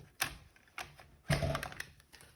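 A mini cut and emboss machine packed away: a few sharp plastic knocks and hollow thuds, the loudest near the end, with brief rattling in between, close and without voices.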